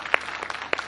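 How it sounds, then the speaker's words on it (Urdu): Audience applause at a televised Ramadan debate competition in Pakistan, a brief burst of a few sharp claps that is close and fairly loud, with no talk. "اور تالیاں ہوں گی آپ کی"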